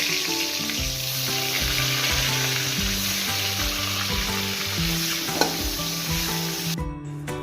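Brinjal slices fry in hot oil in a kadai, making a steady close sizzle with crackling spits, overlaid by a soft repeating melodic tune in the background, with no voices.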